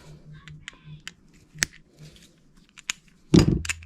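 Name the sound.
cutting with snips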